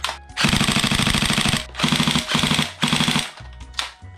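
An AK Storm NGRS airsoft rifle fires in several loud, close bursts of rapid mechanical clatter separated by short pauses, with no talking.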